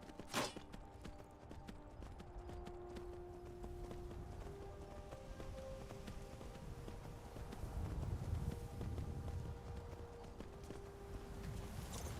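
Horse hooves clip-clopping in Skyrim, a steady rhythmic trot that is fairly faint and sits under ambient game sound throughout.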